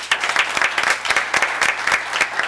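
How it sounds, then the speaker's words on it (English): A round of applause for a cheerleading team at a town board meeting: steady, dense clapping from a room of people, fairly close and even, with no talking over it. "Give it a round of applause for the team."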